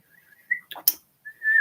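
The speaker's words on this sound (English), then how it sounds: "whistling" A person whistles a few thin, wavering notes, interrupted by a couple of brief sharp noises before a final sustained whistled tone.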